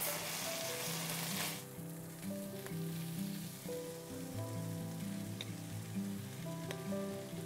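Chicken pieces for Senegalese yassa sizzle steadily in a frying pan, with a brief louder spatter at the start and then a quieter, even frying hiss.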